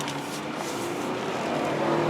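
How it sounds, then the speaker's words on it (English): A 2005 Saturn Vue AWD accelerates at full throttle, its engine note droning steadily and rising slightly in loudness, heard from inside the vehicle. "I'm gonna floor it now."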